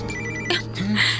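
A telephone rings with a short electronic ringtone, close and clear over a steady background hum.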